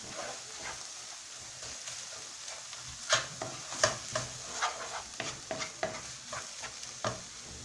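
Onions and tomatoes frying and being stirred in a pan, with a steady sizzle and a run of close, rhythmic scraping strokes growing louder toward the end.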